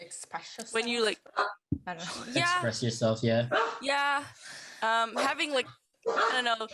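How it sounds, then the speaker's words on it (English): Dogs barking excitedly after a doorbell rang indoors, sharp yips and barks scattered in the background beneath continuous close conversation. "sorry about my dogs, by the way. They're going crazy because someone just rang the doorbell"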